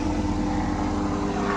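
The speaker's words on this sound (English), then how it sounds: "You cannot walk out in the yard without a helicopter flying over" A helicopter passing over a backyard garden in Columbus, Ohio, as a steady, loud, droning engine and rotor roar that fills the whole moment, with no voices.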